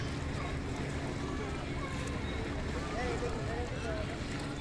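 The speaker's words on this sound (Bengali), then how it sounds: "এই দেখেন একটা স্পিড বোট" A speedboat runs on the water at Dakshin Charteki in Pakundia, Kishoreganj, making a steady droning rush mixed with wind buffeting across the open riverbank.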